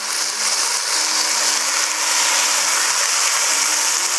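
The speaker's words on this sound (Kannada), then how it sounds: "ಮೊಸರನ್ನು ಮಿಕ್ಸಿ ಬ್ಲೆಂಡರ್ಗೆ ಹಾಕ್ತಾ ಇದ್ದೀನಿ." An electric mixer blender grinds curd together with fried onion for a chicken masala, giving a loud, steady whirring roar that runs unbroken from start to finish.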